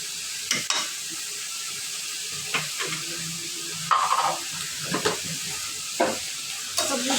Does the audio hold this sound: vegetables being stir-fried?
yes